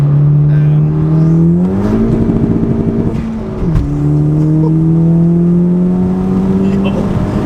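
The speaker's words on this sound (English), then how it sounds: "This car pulls so good! Second gear." A turbocharged 10th-generation Honda Civic Si with upgraded turbo and full bolt-ons pulls hard in second gear, its engine note climbing steadily and loud with a brief shift-like dip midway, while excited occupants shout over it.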